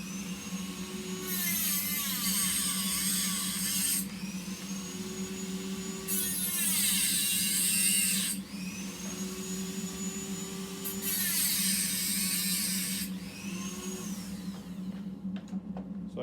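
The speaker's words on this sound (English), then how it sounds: "I use a cutoff wheel and a Dremel tool, that fiberglass type, and they're pretty heavy duty and they work great." A Dremel rotary tool with a fiberglass cutoff wheel scores metal screws in three separate bursts, each a close, shrill, grinding whine over the tool's steady motor hum, with brief pauses between cuts.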